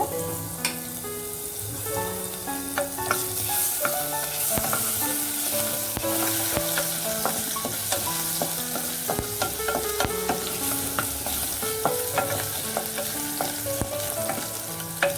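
Crushed ginger-garlic paste sizzles steadily in hot oil for a spicy chicken Manchurian gravy, a dense, close crackle with occasional spoon scrapes and stirring taps throughout, with no talk.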